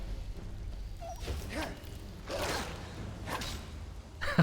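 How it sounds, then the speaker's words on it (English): A dog in the video game Skyrim gives a few short yips and barks, spaced irregularly over a low game background. "Dog."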